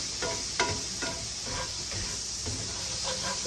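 Brussels sprouts slow-cooking in a frying pan are scraped and stirred in repeated short strokes over a constant hissing sizzle.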